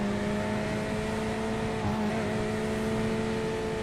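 Steady engine drone of a Porsche GT3 race car in iRacing on the tight Nürburgring circuit, holding a constant tone with a slight swell near the two-second mark as it passes, fairly loud and continuous with no talk.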